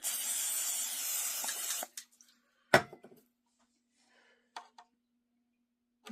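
Cooking spray hisses in a steady burst of nearly two seconds onto a meat probe before it goes into smoked pork, followed by a sharp clatter and a few faint clicks in a quiet room.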